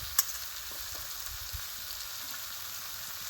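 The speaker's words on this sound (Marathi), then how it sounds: "तर आता मसाले टाकलेत मी आता आपण हे परतून घेऊ छान" Spices and onion masala sautéing in a pan for village-style dal tadka, a soft continuous sizzle with a sharp clink early on and faint stirring taps, no one talking.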